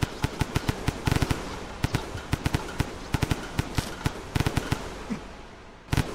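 Rapid bursts of minigun fire from the video game Rain World, with irregular clusters of sharp shots over a constant noisy background.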